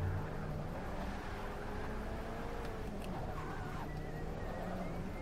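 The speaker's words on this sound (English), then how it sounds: "But yeah, new car. It's a 91 Mustang Fox body." A 1991 Ford Mustang Fox body with the standard 5.0 V8 drives in the Forza 6 Apex racing game, its engine droning steadily throughout with a brief tire squeal partway.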